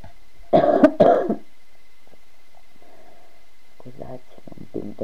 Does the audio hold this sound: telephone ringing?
no